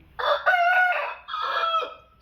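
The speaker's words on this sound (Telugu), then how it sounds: "ఇది వచ్చేసి కక్కెర అండి, కోడి కక్కెర, ఎర్ర కోడి కక్కెర అండి" A red rooster crows loudly and close by, one long drawn-out call in two rising and falling parts, alone with no voices.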